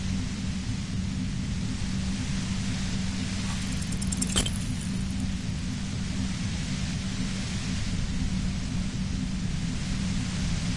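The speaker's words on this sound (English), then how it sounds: "The violent white noise becomes even more overwhelming." A dense, constant wash of harsh white-noise static from the video game Disco Elysium, with a heavy low rumble, steady and loud, broken once by a brief sharp crackle.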